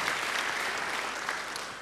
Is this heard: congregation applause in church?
yes